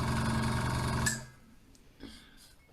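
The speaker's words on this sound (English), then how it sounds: "obviously that was the compressor kicking in there." Air compressor motor running loudly with a steady mechanical hum, then cutting off after about a second, leaving quiet background with a few faint clicks.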